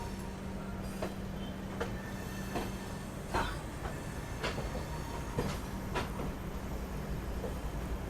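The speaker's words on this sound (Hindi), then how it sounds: "सामने से सियालदह राजधानी जो है वो आ रही है" A train rolls through Ghaziabad station in India, its steady low rumble carrying regular wheel clicks over rail joints, heard from the platform at moderate distance with no voices.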